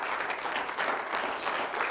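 Congregation applause during a church service, a dense steady clapping that carries on for about two seconds at moderate volume, with no voices standing out above it.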